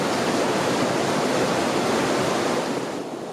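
A creek in the Collegiate Peak Wilderness of Colorado, its water rushing in a steady, loud broadband wash close by, with no voices.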